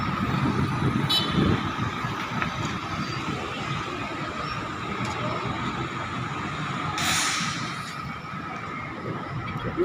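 Busy road traffic in Mindanao, Philippines, with many vehicles passing close by: a steady broadband rumble of engines and tires, a few brief swells as vehicles go past, with no talk heard.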